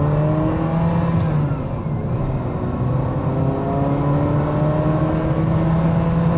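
Ferrari Mondial engine droning steadily while driving, a continuous loud mechanical note with rising harmonics as revs climb, heard from inside the car with no talk.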